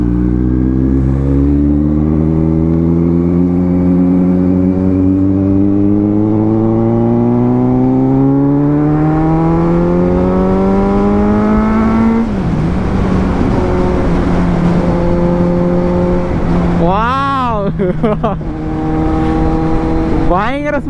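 Kawasaki Z900 motorcycle engine rising in pitch as it revs up, then dropping, and giving a couple of quick sharp blips near the end. The sound is loud and close, and someone talks over parts of it.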